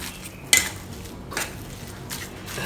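Seafood congee ingredients with salt and pepper being mixed in a bowl, heard as one sharp utensil clink on the dish followed by soft wet stirring and scraping, close and fairly quiet.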